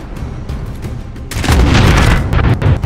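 Gunfire and booming blasts in Warzone gameplay, a dense rumbling barrage that grows much louder partway through and stays heavy to the end, no talk over it.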